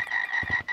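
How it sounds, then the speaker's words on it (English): Frog croaking in the VR game Gorilla Tag, a steady high-pitched trilling call with a few low throaty pulses near the end, close and on its own. "We got Timothy the Frog over here."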